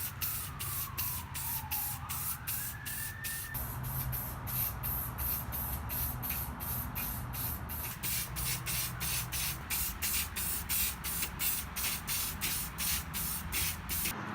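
Spray paint hissing onto a foam costume vest, a close, steady spray that carries on throughout with a faint rapid ticking pattern over it.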